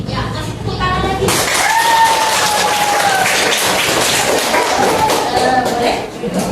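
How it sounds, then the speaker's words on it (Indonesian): An audience claps in a classroom presentation, a dense continuous wash of applause that stays loud and steady for several seconds before easing slightly at the end, with voices calling out over it. "kasih tepuk tangan lagi"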